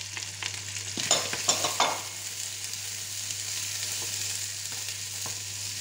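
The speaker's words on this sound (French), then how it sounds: "et on remue, on décolle sur les côtés" Onion and garlic sizzle in a pan as a spatula scrapes along the sides, with a burst of several quick stirs early on, then a steady quieter fry.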